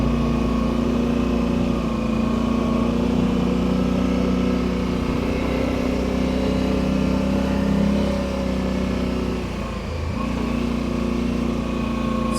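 A Polaris Sportsman 850 ATV engine runs steadily as the quad rides over rough terrain, a continuous mid-pitched drone with a slight dip near the end, close and loud, no voices.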